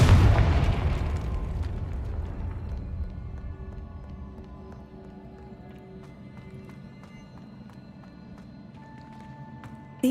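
The Confringo fire spell explodes in Hogwarts Legacy, a sudden heavy boom that hits loudly at the start and then slowly dies away into a long, low rumbling tail.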